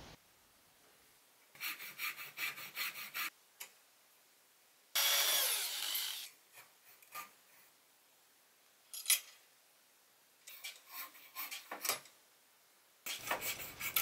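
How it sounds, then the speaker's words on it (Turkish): Hand fret saw cutting small wooden pieces for homemade prayer beads, heard as several separate bursts of rasping back-and-forth strokes with quiet pauses between, close and fairly soft. "Sonra kıl testereyle kestim."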